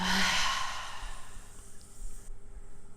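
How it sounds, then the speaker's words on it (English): A deep, breathy exhale during a yoga practice, loud and airy at the start and then tapering off into quiet, close to the listener with no talking. "let's all take a collective breath in and really let go on the exhale"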